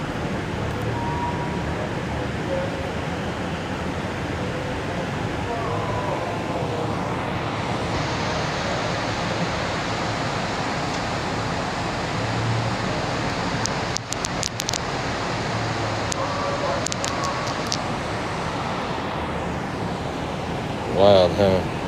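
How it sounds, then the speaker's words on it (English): Heavy rain-like roar near Angkor Wat in Cambodia, a steady broadband wash that keeps on without a break for the whole stretch, with brief crackles and a few clicks near the end. "Sounds like heavy rain, right?"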